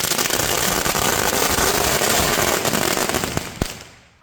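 A Magical Whip firecracker from Sivakasi bursts in a rapid, dense string of loud cracks like a 1000 wala, ending with a couple of sharper bangs before fading.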